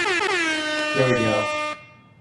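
A loud air horn blares for nearly two seconds, then cuts off sharply, followed by a brief quiet tail.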